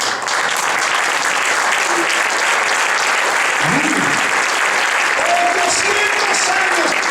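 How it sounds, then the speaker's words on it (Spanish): A church congregation applauds in a dense, loud, continuous roar of clapping hands that holds steady for several seconds, with a few voices faintly audible underneath. "Un aplauso."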